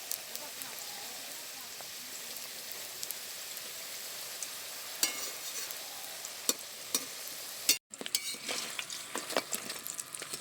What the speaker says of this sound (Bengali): যেগুলো ফুলে উঠেছে সেগুলো আমি উল্টে দিচ্ছি, বেশ সুন্দর লাল করে ভেজে নেব।